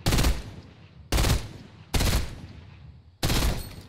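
Four sharp, loud gunshots from Fortnite gameplay, spaced irregularly about a second apart, each a punchy crack with a short decaying tail.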